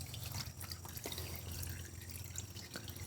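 Motor oil drains from a Kawasaki Vulcan 800 motorcycle in a faint, steady trickle of liquid with light dripping, close by and continuous, with no talking.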